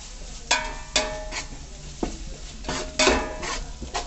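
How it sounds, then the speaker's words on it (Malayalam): A spoon scrapes and knocks against a pot while garlic-ginger paste is stirred into softened frying onions for chicken biryani, making several clinks and scrapes over a low, steady sizzle. "ഉള്ളി വാടി കഴിഞ്ഞപ്പോൾ വെളുത്തുള്ളി ഇഞ്ചി പേസ്റ്റ് ഇട്ട് കൊടുത്ത് ഇളക്കി കൊടുക്കുകയാണ്"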